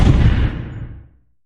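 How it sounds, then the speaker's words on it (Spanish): A heavy booming explosion rumbles loudly, then fades out over about a second. "3 explosiones sacudieron la zona."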